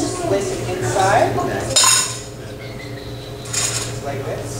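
Coins clink and rattle as they are dropped into a metal container during an illusionist's magic show, a few bright metallic chinks with a quiet pause between, a voice faintly in the background.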